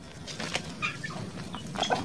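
Rhode Island Red chickens cluck and chirp in short, scattered calls at moderate distance, with a faint rustle of movement in a farmyard.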